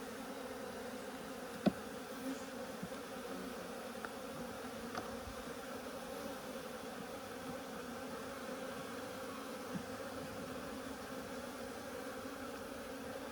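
Honeybees at an opened hive in an Alaska apiary, colony hived a week earlier, drone in a steady, faint continuous buzz throughout, with a few soft knocks and clicks from hive handling.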